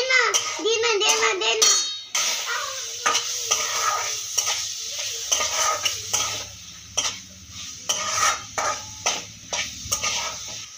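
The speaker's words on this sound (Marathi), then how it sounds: "मटर हलवून घ्यायचे." Peas being stirred into tomato-onion gravy in a pan for matar paneer, with a spoon scraping and tapping the pan in an uneven rhythm over a faint sizzle, close and moderately loud; a voice is briefly heard early on.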